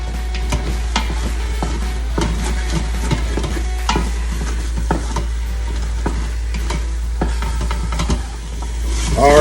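Meat for Texas chili browns in a pot with a continuous, close sizzle, broken by scraping and clattering as it is stirred.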